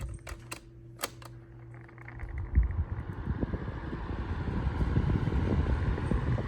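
A 10-inch Climate Keeper table fan on its lowest speed, oscillating, at a grandmother's house: a few mechanical clicks at first, then a soft, steady whir that builds into broadband airflow noise close to the microphone.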